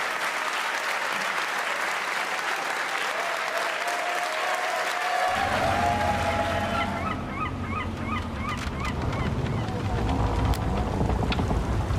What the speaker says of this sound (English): a big round of applause and congratulations for our champion today